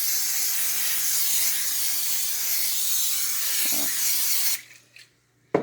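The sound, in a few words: cooking spray hissing onto a pan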